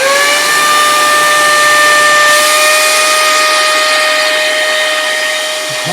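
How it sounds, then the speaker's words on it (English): Steady loud whine and rushing air of a regular vacuum cleaner held over a hole in a mylar food bag, a sustained close hiss with a constant high tone and no talk. "now I'm going to get my vacuum cleaner"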